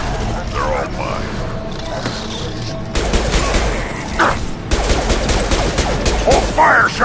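Rapid bursts of gunfire from the video game Mass Effect 2, dense crackling volleys that grow heavier midway, loud and close, mixed with game voices.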